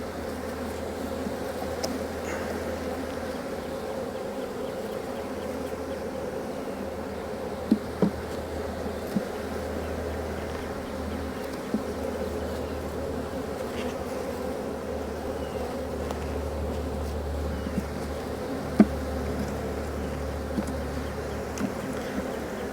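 Honeybees buzz steadily and densely around an open hive in a garden, a continuous close swarm drone with occasional louder passes of single bees near the listener.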